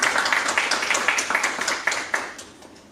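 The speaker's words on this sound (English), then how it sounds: "Give her a round of applause, please." Audience at a conduct risk conference in a hotel breaks into a round of clapping to welcome a speaker, dense and steady at first, with sharper individual claps standing out before it tapers off.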